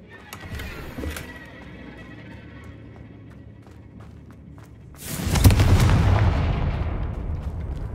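Confringo blasting curses explode in the Hogwarts Legacy video game, a few sharp cracks early on, then a big booming blast with a long roaring decay.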